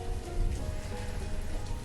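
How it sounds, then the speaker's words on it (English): Steady in-game rain from the town-building game Banished, a soft continuous patter with low rumble, heard alone without voices for about two seconds. "once the rain has stopped"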